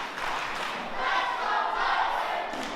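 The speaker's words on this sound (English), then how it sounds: "listen to the crowd getting behind Titan Yin now" A wrestling crowd cheers and roars steadily for Titan Yin, a dense, sustained mass of voices that swells slightly midway and stays loud throughout.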